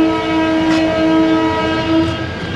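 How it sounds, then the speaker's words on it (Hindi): A local train's departure whistle sounds as a loud, sustained tonal horn with stacked harmonics, held steadily over a low rumble of the train beginning to move, with no talking. "डिपार्चर विसल भी हो गया है, रवाना होने लगी है ट्रेन"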